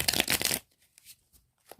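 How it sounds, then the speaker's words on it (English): A quick riffle of tarot cards being shuffled up close, a brisk flutter lasting about half a second, followed by faint soft handling noises. "Let me shuffle these puppies."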